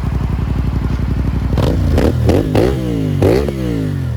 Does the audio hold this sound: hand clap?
no